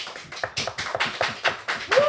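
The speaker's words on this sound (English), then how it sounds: "Can we get a clap from the audience?" An audience claps in a steady, even rhythm of sharp individual slaps, close and fairly loud, lasting about two seconds.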